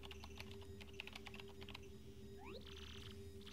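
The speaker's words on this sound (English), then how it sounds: "Use the keyboard to send whatever message you want." Keyboard typing in the Paper Mario: The Thousand-Year Door video game, a quick run of soft clicky keystrokes, then a brief rising electronic chirp and a short static-like tone, all faint.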